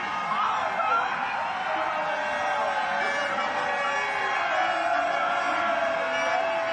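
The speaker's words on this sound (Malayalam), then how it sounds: "ആർപ്പുവിളികൾ ഉയരുകയാണ്." Spectators cheer and shout along the shore of Punnamada Lake during a Nehru Trophy snake boat race heat, a steady, dense crowd roar with whoops that stays even throughout.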